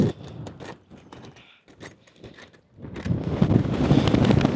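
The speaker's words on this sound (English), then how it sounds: "It is super, super windy right now, and it's snowing a little bit." Strong wind gusts buffet the microphone beside an Antarctic glacier, starting quieter with scattered bursts, then rising into a loud, sustained roar over the last second and a half.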